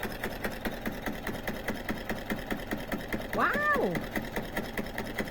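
Sewing machine stitching and then trimming the thread, a steady rapid mechanical whirr running throughout, with a person speaking briefly over it.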